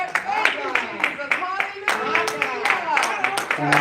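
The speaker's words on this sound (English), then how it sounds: "Let us give God a hand clap of praise." A congregation claps hands in praise during a church worship service, with quick rhythmic claps running steadily throughout, mixed with voices talking and calling out over them.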